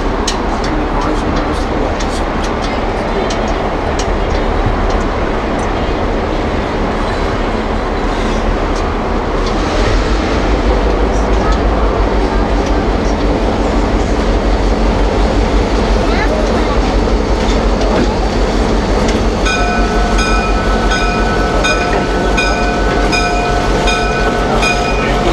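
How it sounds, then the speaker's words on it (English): An early EMD diesel locomotive, number 764, moves along track near an interchange, its steady rumble and rail noise filling the whole stretch, with tonal horn or whistle lines appearing near the end and some voices in the background. "And our guys bring up our locomotive 764."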